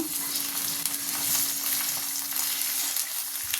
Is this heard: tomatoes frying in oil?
yes